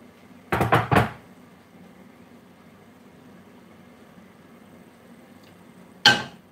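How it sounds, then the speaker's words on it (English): A chopping board is moved around a home kitchen while chicken chow mein is being made, giving a cluster of close wooden knocks and clatters at the start, then a quiet stretch and one more sharp knock near the end. "I'm just going to uh, move the chopping board."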